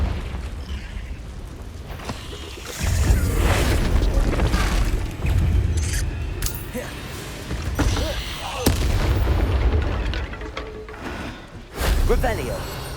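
Confringo blasting curses in Hogwarts Legacy, a string of booming fiery explosions going off one after another, loud and heavy, with a voice calling out between the blasts.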